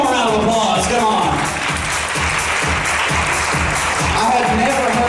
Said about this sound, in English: Folks, give them a round of applause.